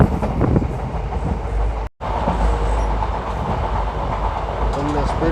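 A train runs at speed through countryside at about 70 km/h, with a loud, steady rumble and rattle of the carriages and a brief dropout, heard from on board.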